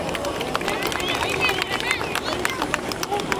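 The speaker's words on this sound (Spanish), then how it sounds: "vamos a gritarle un caluroso y fuerte aplauso" Crowd applause and cheering at an outdoor Cantoya balloon festival in Cherán, a dense steady wash of clapping mixed with crowd noise and voices throughout.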